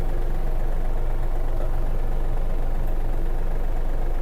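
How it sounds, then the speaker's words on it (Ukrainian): Yanmar AF-333 mini tractor with cab idling as its engine warms up, a close, steady, even diesel chug with no change in pace throughout. "Дамо двигуну трішечки прогрітися"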